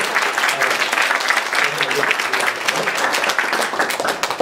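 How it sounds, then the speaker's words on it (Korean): A church congregation applauds during an ordination thanksgiving service at a Korean Reformed church, a dense, lively round of clapping with a faint murmur of voices. "다시 한번 박수로 하나님께"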